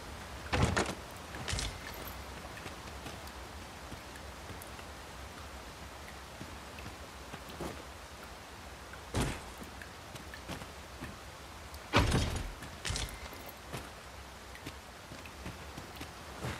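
Steady hiss of a rain downpour in Dragon's Dogma 2, a constant soft wash with a few louder gusts or splashes breaking through now and then, fairly quiet and without voices.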